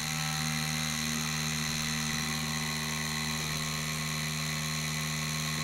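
A tattoo pen machine with a 5 mm stroke runs at 6 volts, giving a steady, close, high-pitched motor whine with a constant buzzing hum. The tone holds even throughout and is heard without talk.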